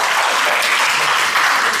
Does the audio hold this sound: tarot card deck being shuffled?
no